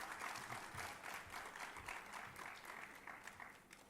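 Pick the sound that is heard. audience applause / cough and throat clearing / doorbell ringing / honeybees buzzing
audience applause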